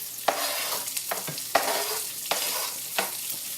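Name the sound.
onions and garlic sizzling in pan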